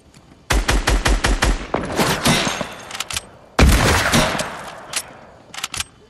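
A drum gun in a video game fires in rapid bursts, loud staccato shots rattling close in two long sprays, followed by a few scattered single shots at the end.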